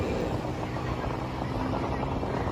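A Hero Glamour motorcycle engine revving steadily in first gear, a loud continuous droning roar with wind noise throughout, heard up close with no pauses.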